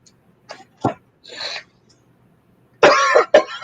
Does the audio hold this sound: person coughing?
yes